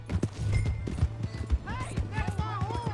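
Horse hooves clip-clop in a Red Dead Redemption 2 game scene, a quick uneven run of close thuds with a whinny near the end, heard under voices talking.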